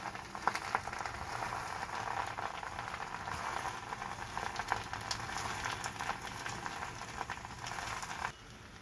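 Gongura leaves cook on a medium flame in a pan, giving a steady soft sizzle and bubbling patter throughout, fairly quiet, ending abruptly near the close.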